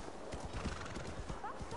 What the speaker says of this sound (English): I should call my horse more often.